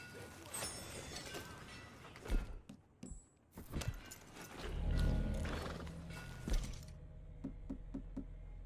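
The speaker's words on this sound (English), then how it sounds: "Get on your horse, John." A horse in the Red Dead Redemption 2 video game neighs sharply and snorts amid rough scuffing and thuds, then a quieter stretch of several crisp hoof clops, all fairly close.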